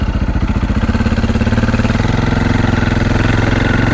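A KTM 525 motorcycle engine idles steadily as it warms up, with a loud, close, even thumping pulse and no voices.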